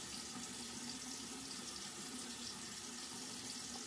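Tap water runs steadily into a sink during a morning face wash with a salicylic acid cleanser, a constant, close, moderately loud rush with no speech over it.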